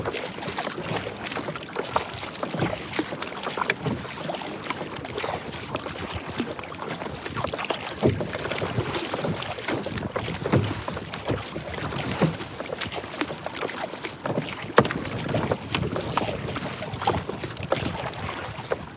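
A kayak is paddled out on open water for fishing, with soft irregular splashes and water sloshing against the hull under steady wind noise, and no talk.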